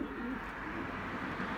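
A pigeon cockbird coos softly in a loft near its nest, a low, quiet, steady murmur with no talking.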